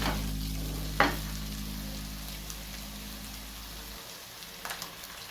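Spiced curd is stirred into a tomato and corn curry in a pan, a soft, bubbling sizzle under a low hum, with one sharp utensil knock early and a few faint scrapes later.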